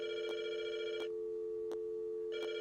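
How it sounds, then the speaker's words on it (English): A phone rings in the video game Rust: a steady electronic ring tone sounds clearly, interrupted by a few sharp clicks, with no talking. "It's gonna make the phone ring over here"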